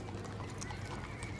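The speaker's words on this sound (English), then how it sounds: "the rest of these guys is just from local entries showing off their horses, and some beautiful horses they are" Horses clip-clop steadily along a street in a Christmas parade, their hoofbeats blending with a dense crowd and street noise.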